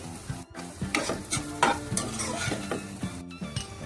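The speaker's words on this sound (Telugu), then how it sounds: "కట్ చేసి పెట్టుకున్న మునక్కాయలు వేసుకోవాలండి." Cut drumsticks tossed into a hot pan with onions and coconut masala: a steady sizzle and frying hiss with scraping stirring strokes, close and continuous.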